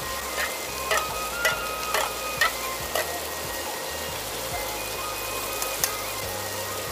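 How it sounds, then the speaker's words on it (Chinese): Green and red bird's-eye chillies and mushroom flowers stir-fried hard in a wok over high heat, a steady bright sizzle broken by repeated scraping and tossing strokes of the spatula, close and fairly loud, no voices. "继续用大火快速翻炒均匀"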